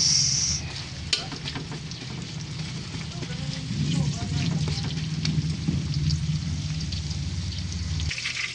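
Onions frying in oil in a pan for bangus steak, a continuous close sizzle with stirring noises, a faint voice under it.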